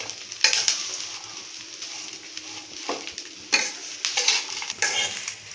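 Drumstick leaves fry and sizzle in a pan, with steady crackling broken by sharp bursts of stirring and scraping, close up with no talk.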